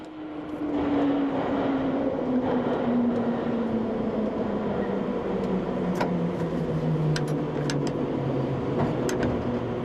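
A London Underground Bakerloo Line train runs into Marylebone station with a steady, loud rumble and a slowly falling motor whine. Sharp clicks and squeals from the rails come near the end.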